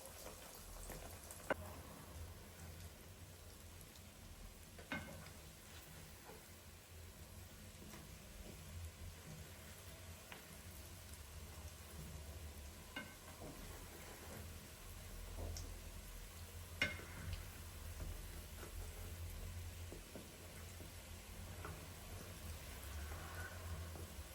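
Dough balls (llokume) fry in hot oil with a faint, steady sizzle and occasional soft pops, with no talking.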